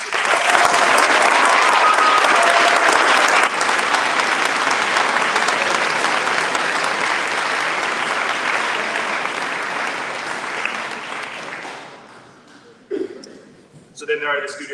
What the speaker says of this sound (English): A round of applause for honors recipients.